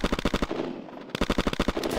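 Rapid bursts of gunfire from a weapon in the shooter game Red Crucible Firestorm, close and loud, with evenly spaced shots broken by a brief pause midway before the volley resumes.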